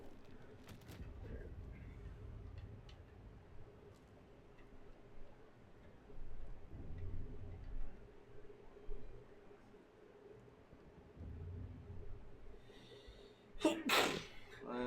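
A sharp, loud sneeze bursts out near the end after a stretch of quiet ticking and low murmuring room sound, with a voice faintly present during a video game session.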